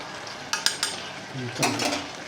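Chicken curry being stirred in a pan, with a few quick utensil scrapes and clinks followed by a low sizzle, close and fairly soft.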